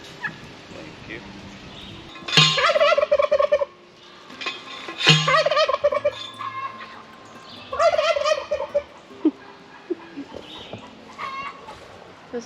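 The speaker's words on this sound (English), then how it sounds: "Those turkeys are funny how they gobble every time you..." Turkeys on a garden homestead gobble in loud, rapid, rattling bursts, three or four outbursts spaced a few seconds apart, close by with some background activity between.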